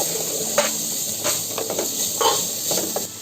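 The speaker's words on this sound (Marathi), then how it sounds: "कांदा चांगला फ्राय करून घ्यायचा आपण." Finely chopped onion fries in hot oil with whole spices for a prawn biryani, giving a steady close-up sizzle with soft hiss and occasional stirring scrapes.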